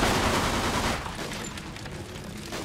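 Sustained gunfire from a WWII firefight in the Mafia II video game, dense rapid shots rolling continuously for several seconds at close range, loud throughout with a slight drop midway.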